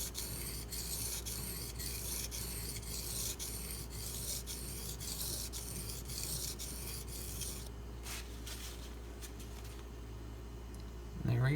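Benchmade Mini Crooked River knife blade ground on a sharpening stone, a close, rhythmic rasping scrape in even back-and-forth strokes for most of the time, then stopping into quieter handling noises and a brief thump.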